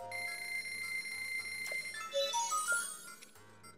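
Item exchange in The Legend of Zelda: Breath of the Wild plays as a quiet electronic chime, a held tone followed by a short run of rising beeps, heard alone.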